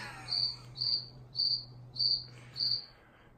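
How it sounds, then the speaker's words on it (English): Crickets chirp in five evenly spaced high, shrill trills, each roughly half a second long, steady and moderately loud over a faint low hum. "Crickets are funny."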